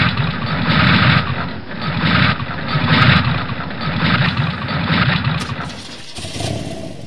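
A motorbike engine idles in a steady, close rumble with a slight rising and falling pulse, then drops off briefly near the end.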